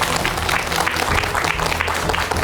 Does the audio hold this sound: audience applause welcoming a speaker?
yes